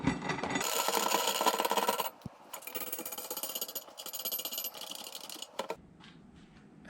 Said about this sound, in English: take a nut on each end and screw that in